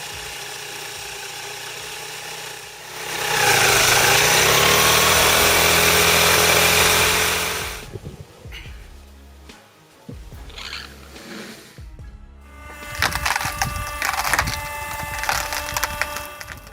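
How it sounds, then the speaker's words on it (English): A 4 kW electric wood splitter works through firewood, first a loud steady hydraulic drone, then splintering cracks and creaking wood followed by a busier mechanical clatter and rattling. "This 4 kilowatt electric-powered wood splitter is a beast of efficiency."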